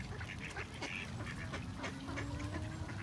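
Ducks and other waterfowl at Lake Balboa Park calling while being fed, with quacks and short honks scattered over a steady outdoor murmur, fairly close but soft overall.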